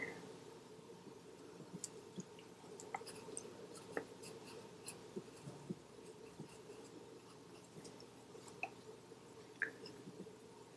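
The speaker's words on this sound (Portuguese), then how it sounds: "Faz essa mistura aí na água." A paintbrush swirling green watercolor paint in water, soft wet squishing and dabbing with scattered tiny clicks of the brush against a container, close and quiet over a faint background hum, with no talk.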